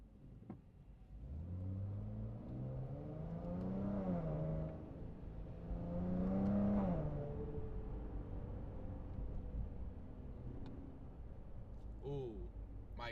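A 2023 Dodge Challenger GT fitted with a K&N intake revs up twice from inside the cabin, deep engine tone rising and falling in long sweeps with a steady rumbling idle between.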